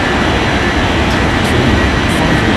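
Jet airliner taking off in an air traffic control game, a loud, steady broadband engine roar that holds constant throughout with no talk over it.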